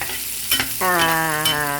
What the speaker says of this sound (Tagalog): At ilalagay ko na po ang ating karne ng chicken at saka ang hipon.